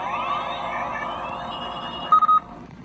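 Electronic siren effect from a Spin Master 1/18 scale Batmobile toy from The Batman, a steady wailing tone that runs alone, followed near the end by a few short, sharp beeps.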